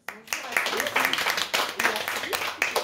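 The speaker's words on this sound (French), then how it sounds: "Donc je vous demande d'applaudir" Audience applause at a French literary conference on children's writing, a steady patter of many hands clapping throughout, with voices mixed in.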